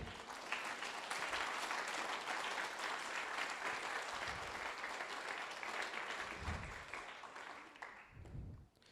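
A church congregation claps for the Lord in a full, sustained round of applause, dense and steady for several seconds before tapering off, with a few low thumps underneath.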